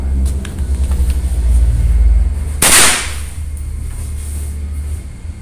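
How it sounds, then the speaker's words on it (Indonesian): A single sharp air rifle shot firing a 10.5 grain pellet cracks out close and loud over a steady low rumble, with faint background noise before and after. "Ya, tembakan kedua"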